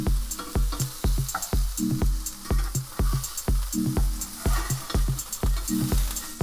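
Chapli kebabs fry in oil in a pan over medium to high heat, giving a steady close sizzle broken by frequent sharp crackles and pops in an uneven rhythm.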